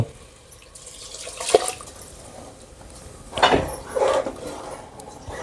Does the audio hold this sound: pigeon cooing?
no